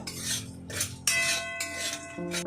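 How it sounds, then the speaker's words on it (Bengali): Metal utensil scraping and clinking against a dry wok while spices are stirred, in a few distinct strokes with ringing metallic tones between them, close up and with no voices. "শুকনো কড়াইয়ে আমি নেড়ে নেবো"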